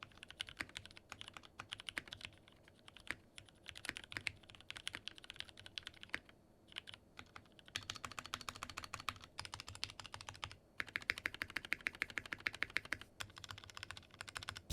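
Continuous typing on a MelGeek Mojo68 mechanical keyboard fitted with cherry-profile PBT keycaps, a steady stream of close, crisp keystrokes with brief pauses and no voices.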